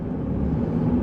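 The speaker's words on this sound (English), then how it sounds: "But the truck runs good." A Nissan Frontier pickup truck's engine hums steadily while driving, a continuous low rumble heard from inside the cab with no talk.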